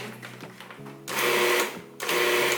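A food processor pulses pie crust dough in two short, loud whirring bursts separated by a brief pause, with quieter mechanical hum before the first pulse.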